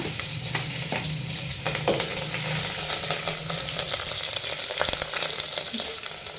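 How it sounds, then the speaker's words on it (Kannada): Onions with two green chilies frying in a pan for a drumstick-leaf sambar, a steady close sizzle with scattered crackles and soft stirring scrapes throughout. "ಇದು ಕಾಯೋ ಟೈಮಲ್ಲೇ ಮೆಣಸಿನ್ಕಾಯಿ ಹಾಕೋಣ"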